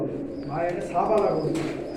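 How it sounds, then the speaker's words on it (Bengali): Highflyer pigeons at a pigeon farm cooing softly in low, rolling murmurs, with a few faint chirps and people talking nearby. "এটা কি কবুতর গো"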